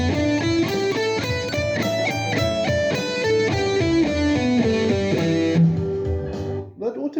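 Electric guitar running a scale at doubled tempo over a backing track, quick successive notes over steady accompaniment, loud and close, fading into a brief decay near the end.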